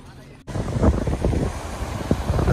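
Wind and sea waves at Devbag beach, Malvan, surge in after a sudden start, a loud, continuous roar of surf with gusting wind buffeting the microphone.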